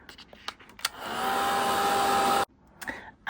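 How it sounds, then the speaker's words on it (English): A heat tool blows hot air onto stenciled ink to dry it, a steady, close whirring blast lasting about a second and a half, with light taps before it and quiet after it shuts off. "now I'm going to do the heat tool again and get this to dry."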